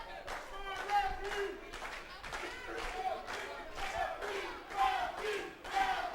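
A crowd at a live pro wrestling show yells and chants in rising, pulsing waves, a steady roar with a few claps mixed in, while a commentator talks over it.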